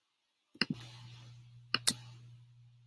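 Two quick pairs of mouse clicks on a computer, crisp and close, separated by a short pause over a faint steady low hum.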